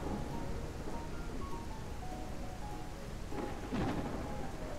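Heavy thunderstorm rain in the farming video game Ranch Simulator: a dense, continuous downpour hiss with a low rumble of thunder swelling near the end.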